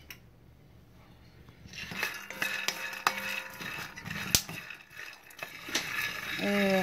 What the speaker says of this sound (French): Donc, on va d'abord griller un peu les arachides jusqu'à ce que ce soit doré.